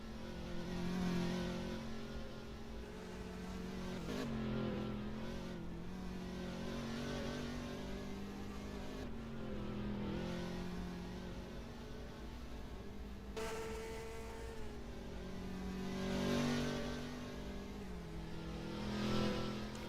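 Race cars at a GTI feature race in northwest Ohio, engines revving and rising in pitch as they accelerate and pass, with repeated swells and dips from moderate distance, no talk.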